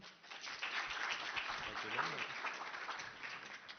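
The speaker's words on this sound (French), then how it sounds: "On peut les applaudir aussi." Audience applause fills a room at an awards ceremony, dense and sustained for the whole stretch, with a voice briefly rising over the clapping.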